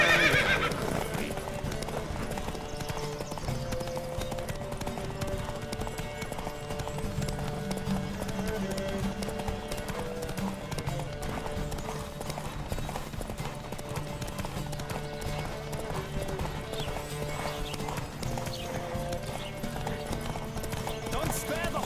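Horses gallop in a race in the video game The Witcher 3: Wild Hunt, with rapid rhythmic hoofbeats clattering throughout, an occasional whinny, and voices calling out over the action.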